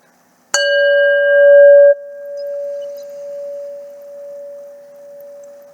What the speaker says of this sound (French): je vais sonner le bol pour nous soutenir avec ce son